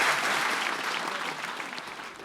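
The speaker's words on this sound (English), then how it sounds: "Another round of applause, please, for your debaters," An audience claps for debaters at a live panel debate event, a dense burst of applause that starts loud and gradually tapers off.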